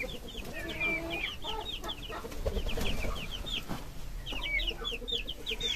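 Many chicks, three weeks to three and a half months old, cluck and peep together in a busy coop, a steady chorus of short high calls with a low background hum.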